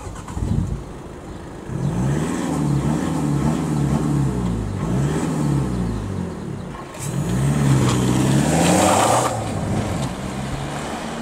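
A car, newly bought by its owner, revs and accelerates as it pulls away from a standstill, the engine note climbing in two loud rising sweeps, close by, with no talking.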